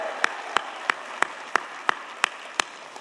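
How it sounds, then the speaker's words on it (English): At a Teacher of the Year celebration, a single pair of hands claps in an even rhythm, about nine sharp, close claps over a quiet room, with no voices. "Let's give a big round of applause for our Teachers of the Year"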